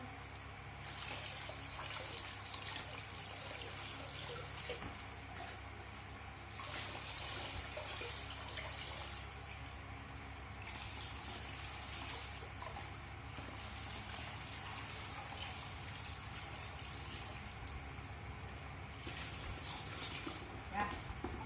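Running tap water pours over hands being rinsed at a school washbasin, a faint, steady splashing stream that continues unbroken throughout.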